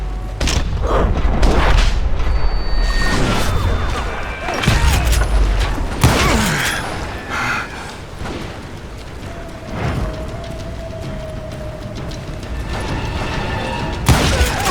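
Gunfire shootout in the Western game Call of Juarez: Gunslinger, with repeated loud shots and booming blasts at irregular intervals, some clustered in bursts, amid mechanical clatter and a faint voice.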